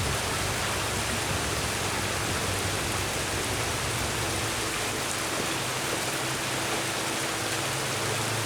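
Steady rain falls outside on a fall morning, a constant dense hiss of drops on surfaces with a low rumbling undertone, unbroken for the whole stretch and with no voices.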